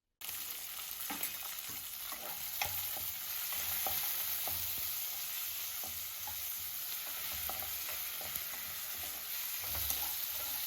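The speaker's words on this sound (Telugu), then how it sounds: "కొంచెం ఎండుమిరపకాయలు, కొంచెం పచ్చిమిరపకాయలు, కొంచెం కరివేపాకు వేసి వేయించాలి." Urad dal, dried red chilies, green chilies and curry leaves fry in oil for a gooseberry pickle tempering, a quiet, even sizzle with light stirring taps throughout and no talking.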